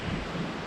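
Low, steady gusting rush of wind buffeting the microphone on a backcountry ridge at night, a continuous dull roar with no voices.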